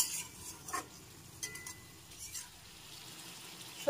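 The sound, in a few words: stirring vegetables and spices in a pan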